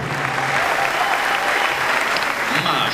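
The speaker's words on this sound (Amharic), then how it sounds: "አጨብጭቡ ለጌታ ክብር።" Congregation at a church youth program applauding together, a dense, steady wash of many hands clapping that fills the whole moment without a break, loud and close, with a few voices mixed in.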